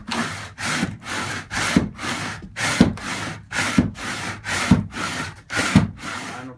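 A pole sander scraping down a hardwood floor in steady back-and-forth strokes, about seven even rasping passes, close and loud with no talk.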